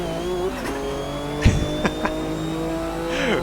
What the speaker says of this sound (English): all of a sudden the turbo boost kicks into the level where it's supposed to be at